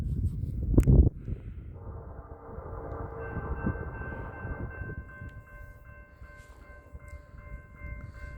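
BNSF double-stack freight train on the Marceline Subdivision rolling past, a low continuous rumble of wheels and wagons with a sustained horn-like tone sounding for several seconds after a brief thump at the start.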